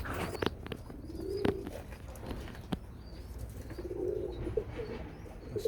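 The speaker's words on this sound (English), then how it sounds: "Whole crew of white birds." A flock of white pigeons on a roof, with soft cooing and bursts of wing flapping against quiet outdoor background noise, a few sharp flutters standing out.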